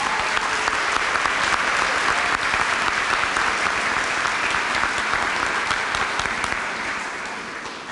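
Large audience at a Muskingum University commencement applauding the graduates' parents, a sustained dense roar of many clapping hands that holds steady and then slowly fades toward the end.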